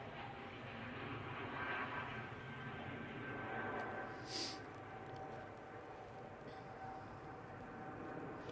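A Ryanair airliner departs Manchester Airport, a distant steady jet engine roar that swells gently and holds at a moderate, faraway level.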